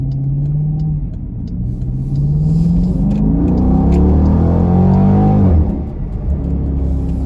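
A Jeep Grand Cherokee SRT with an X-Pipe exhaust revs up, its deep rumble climbing steadily in pitch over several seconds before dropping back to a throaty idle, loud and close with no talking.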